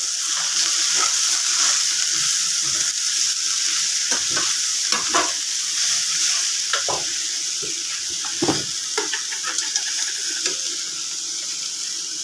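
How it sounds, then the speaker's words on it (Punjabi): A potato and mungre vegetable dish seasoned with salt, chili and turmeric sizzles steadily in a frying pan, with close, irregular clinks and scrapes from stirring breaking through the constant hiss. "ਇਸ ਕਰਕੇ ਪਹਿਲਾਂ ਆਪਾਂ ਇਹਨੂੰ ਫਰਾਈ ਕਰ ਲਾਂਗੇ"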